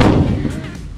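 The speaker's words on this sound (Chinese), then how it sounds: "开启爆炸模式" A loud, deep booming explosion effect hits at once and then slowly decays into a rumbling tail, close and dominant, with a faint voice underneath.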